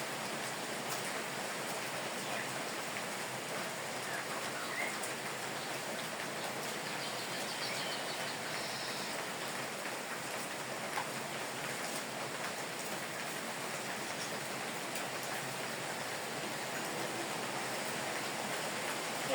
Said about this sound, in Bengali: এত বাতাস আর বৃষ্টি নামছে